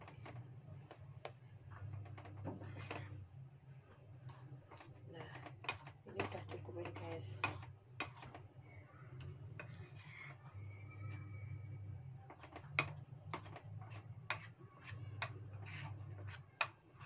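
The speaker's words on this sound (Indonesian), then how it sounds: "agak berisik sedikit karena nyuci baju ya, mesinnya berisik" A washing machine running a load of clothes indoors, a low droning hum that pulses in cycles as the drum turns, dotted with small clicks and ticks, fairly quiet throughout.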